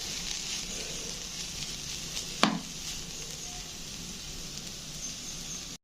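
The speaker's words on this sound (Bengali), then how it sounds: "তো নারকেলটা যেন একেবারে ভাজা ভাজা হয়ে যায় বিটরুটের সঙ্গে" Beetroot and grated coconut fry in a pan with a faint, even sizzling hiss, interrupted once by a single sharp clatter partway through.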